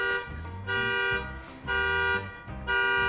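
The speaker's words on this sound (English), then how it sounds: "looks like somebody just set off an alarm" A car alarm blares nearby in repeating bursts of a loud electronic wail, cycling through pitch patterns with brief gaps between.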